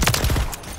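A loud, close burst of rapid automatic gunfire in Call of Duty: Modern Warfare III, several quick cracks in a tight rhythm that fade out in under a second.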